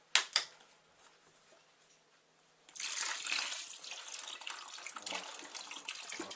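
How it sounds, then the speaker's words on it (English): One litre of grape juice pours steadily into a vessel of fruit tea wine must, a continuous splashing gush close to the microphone that begins suddenly after a few light knocks and near silence. "1 litre of grape juice goes in."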